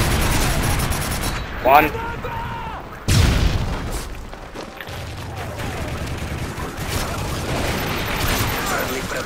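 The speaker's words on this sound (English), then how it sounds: "Friendly predator missile inbound" Predator missile strikes in a video game shooter, booming explosions and rattling gunfire over a steady roar, with a sharp heavy blast partway through and a voice briefly speaking.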